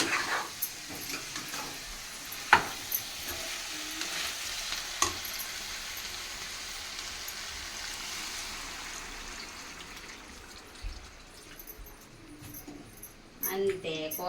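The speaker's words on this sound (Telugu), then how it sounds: "తాలింపు పెట్టడం పూర్తయింది" Spice tempering sizzling in hot oil, a soft crackle under a few sharp clinks and stirring scrapes, with a person talking at times over the frying.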